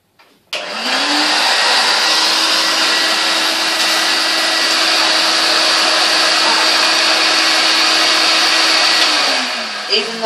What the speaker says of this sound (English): we'll hoover up the rest of this